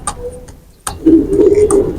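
A pair of teddy pigeons coos in a low, throaty purr lasting about a second, following a few faint clicks and a brief quiet pause, with no voices.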